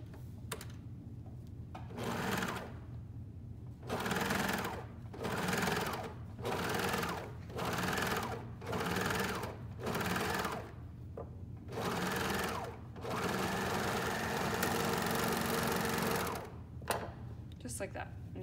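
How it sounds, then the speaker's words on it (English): A serger stitches a stretched cuff onto a coverall sleeve in bursts of rapid mechanical whirring, starting and stopping about ten times with short pauses between runs, close and steady. "you'll just stretch that cuff to fit and serge it on all the way around."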